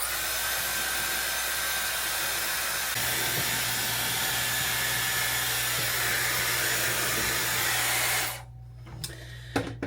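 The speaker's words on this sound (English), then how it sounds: "Now I'm just gonna rough dry my hair." Hair dryer blowing to rough dry hair, a loud steady whooshing roar close by that shifts pitch slightly partway through and then cuts off near the end.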